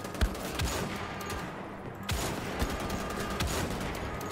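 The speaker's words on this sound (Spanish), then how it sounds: "Fallo demasiados tiros." Gunfire in the shooter game Wolfenstein: The Old Blood, with sharp repeated shots in quick bursts over a dense, loud battle backdrop, and a heavy blast midway.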